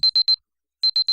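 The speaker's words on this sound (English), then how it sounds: "That loud ringing isn't an ambulance's siren, but my alarm clock" A loud alarm clock rings in a visual novel video game, three sharp high-pitched beeps, a short silence, then three more in the same quick rhythm, heard alone.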